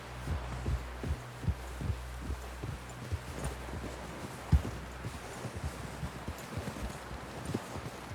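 Horse hooves clip-clop in a steady, even rhythm of soft thumps in Red Dead Redemption 2, with a low drone underneath and one sharper, louder hoof strike midway.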